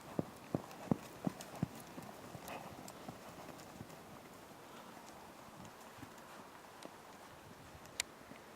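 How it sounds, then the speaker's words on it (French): Hooves of a horse trotting in an arena, a handful of crisp, evenly spaced clip-clops at first, then softer footfalls amid quiet background noise and an occasional distant voice. "Elle passe au trot doucement."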